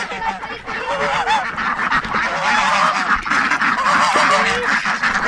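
A goose that has escaped its pen honks loudly and repeatedly at close range, harsh nasal calls tumbling over one another, with ducks quacking among them and a person talking in the background.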